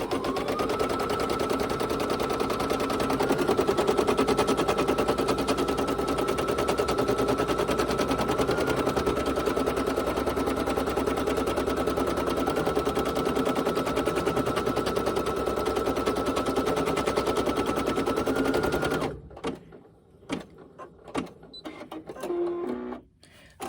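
A Brother PE 800 embroidery machine sews the first tack down stitch for a mask made in the hoop: a steady, rapid needle rattle runs for about 19 seconds, then stops, leaving scattered handling clicks.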